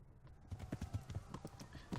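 A horse gallops in the medieval video game Kingdom Come: Deliverance, a quick rhythmic run of hoofbeats at moderate distance, fairly quiet, with no talk over it.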